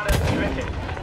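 Heavy artillery fire on a Battlefield V battlefield, a loud, dense rumbling blast with a strong low-end boom at the start that rolls on for about a second amid continuous battle noise.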